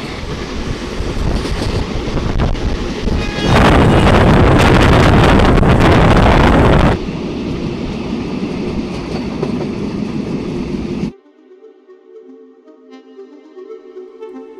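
Superfast express train running from Asansol to Haldia as it enters Jhantipahari station in Bankura district, heard from aboard: loud continuous rumble and rushing wind noise, briefly louder, then dropping to a quieter steady hum.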